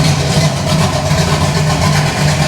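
A hot rod engine idles steadily nearby, a continuous low rumble with a slight lumpy pulse and no revving, loud and alone with no voices.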